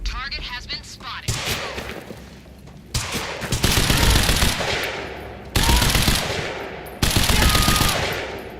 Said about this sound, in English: Well, this machine gun sucks.